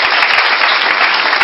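A church congregation breaks into steady, dense applause to acclaim the Lord during a sermon, loud and even throughout with no break.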